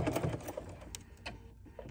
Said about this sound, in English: So now let's stitch.